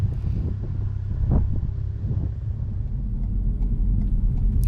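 A car creeps slowly up a quiet residential hill in first gear, giving a low steady engine rumble with faint road and wind noise and no talking.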